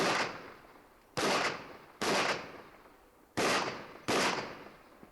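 Five sharp pistol shots from an Open Division competitor on a USPSA Nationals match stage, loud and close with ringing decays, fired in an uneven rhythm with a longer gap before the last quick pair.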